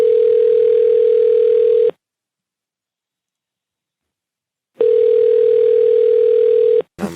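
A telephone dial tone plays while a call is placed, a steady loud hum in two bursts separated by a few seconds of silence, ending with a brief click.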